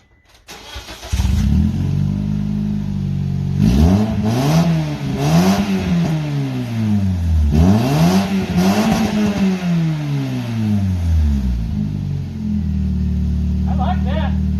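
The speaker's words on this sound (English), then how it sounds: "See what this thing sounds like with no muffler on the back." A Scion xB with no muffler starts and idles with a deep, raspy drone, then revs hard several times in rising and falling sweeps before settling back to a loud idle, close by with a voice briefly at the end.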